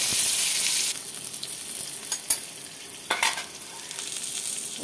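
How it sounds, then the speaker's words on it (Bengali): Pointed gourd pieces with turmeric fry in a little oil until reddish, giving a steady close sizzle with occasional stirring scrapes, the frying loudest at the start and then settling lower. "লাল লাল করে ভাজতে হবে পটলটা।"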